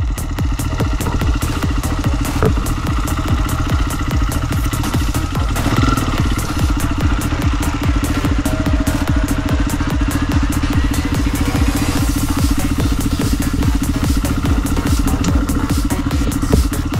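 A motorcycle engine idles and runs steadily with a mechanical clatter, loud and close throughout, rising slightly in places, with no talking.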